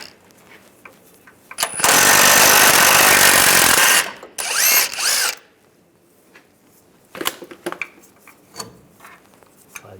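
An impact tool with an 18mm socket removes a nut from a differential bracket on a 2007-2013 Chevrolet Silverado, one loud sustained burst of about two seconds, then a short second whir, followed by faint clinks and shop clatter.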